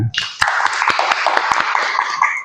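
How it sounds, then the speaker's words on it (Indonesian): A group of participants at a teacher training session claps together in a sustained, dense round of applause with a few sharper individual claps standing out. "Oke, tepuk tangan."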